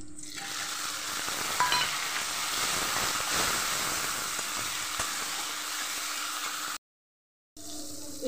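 Tomatoes hit hot mustard oil that already holds green chillies and sizzle loudly in a steady, close, hissing fry. The sound cuts out briefly near the end, and no one speaks.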